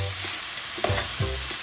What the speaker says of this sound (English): we are going to stir this occasionally just to get all of that meat evenly cooked